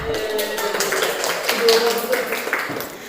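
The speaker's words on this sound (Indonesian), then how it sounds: "Tepuk tangan." Classroom of students clapping hands together in a burst of scattered applause, with voices chattering over it throughout.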